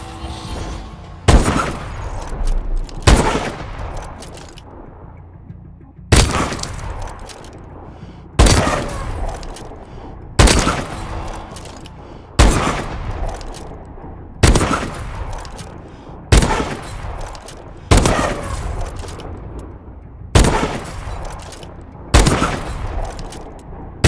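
Video game gunfire at a firing range in Call of Duty: Advanced Warfare, a dozen loud, sharp shots fired singly at fairly regular intervals of about two seconds, each ringing out with a short decaying tail.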